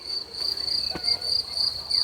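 Crickets chirp in a steady, high continuous trill, a calm outdoor chorus with no talking.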